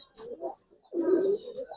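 Giribaz and coloured pigeons coo close by in two soft, throaty calls, the second longer and fuller, with no talk.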